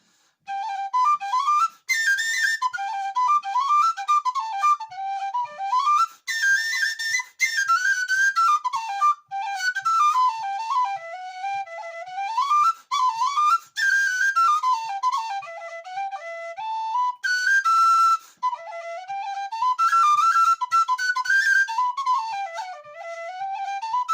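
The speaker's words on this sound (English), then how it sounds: "This is quite a good little whistle" A tin whistle costing about £25 plays a lively traditional tune alone, close and clear, bright ornamented notes running continuously with quick breaths between phrases.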